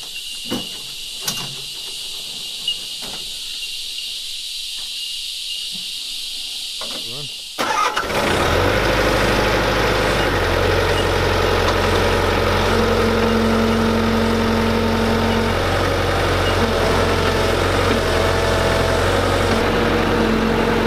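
A heavy machinery engine cranks and catches after a stretch of quieter workshop sounds, then settles into a steady, loud idle that runs continuously to the end.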